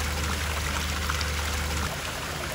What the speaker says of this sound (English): So you see a lot of streams of water around Cragside